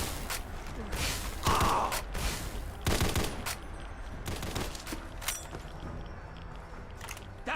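Rapid gunfire in the game Fallout (Tale of Two Wastelands), a series of sharp, close shots in irregular bursts with mechanical clicks between them.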